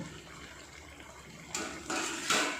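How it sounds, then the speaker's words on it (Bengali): Chicken pieces boil in a pot without oil, making a soft watery bubbling that swells in louder bursts toward the end. "খুব সুন্দর সিদ্ধ হচ্ছে জুইসি একদম"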